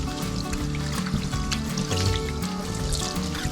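Running water splashing over cured pork belly as brine and seasoning are rinsed away, a steady close trickle and spatter with no speech.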